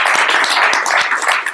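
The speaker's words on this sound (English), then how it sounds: "One more round of applause." Startup Weekend event audience applauding, a brief burst of dense, steady clapping heard up close and loud.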